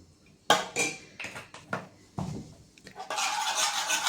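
Persian pizza dough being mixed in a bowl: irregular scraping and clinking bursts of a utensil against the bowl, close and fairly loud, ending in a steadier rough swishing, with no talk.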